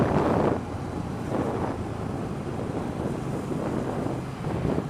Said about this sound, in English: Get some wind on you.